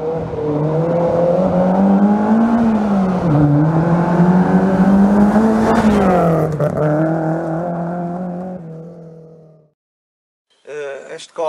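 A Peugeot 306 16S rally car engine drones loudly and steadily, its pitch rising and dipping as the revs change, then fades and cuts off before a brief final burst of noise.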